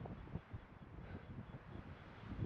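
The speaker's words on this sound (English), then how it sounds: "Getting a little windy." Wind buffets on an exposed mountain trail on a cool day, a low rumbling gusty roar that pulses irregularly across the whole moment with no voices.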